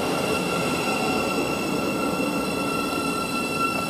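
A Thameslink Class 700 electric train at Cambridge North station, a loud continuous rumble with a high steady whine and faint wheel squeal, filling the whole stretch with no voices over it.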